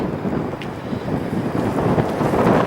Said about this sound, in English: it's not too bad a day. It's a bit, I say, a bit windy.